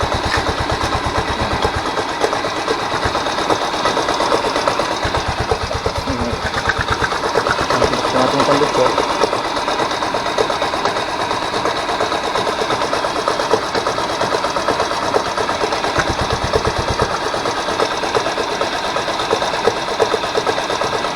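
A noisy edging (overlock) sewing machine runs steadily and close, its worn motor whirring continuously with periodic low mechanical pulses, while someone talks over it.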